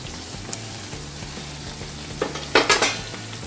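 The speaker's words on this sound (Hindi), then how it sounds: "इसे अच्छे से गोल्डन ब्राउन होने तक हम फ्राई करेंगे।" Bread pizza pockets frying in hot oil over a raised gas flame: a steady low sizzle with a few bursts of spattering and stirring clatter near the end, no voices.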